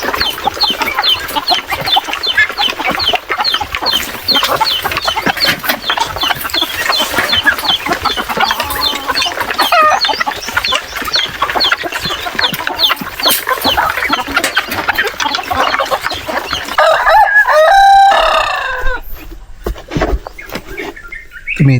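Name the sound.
rooster crowing and chickens clucking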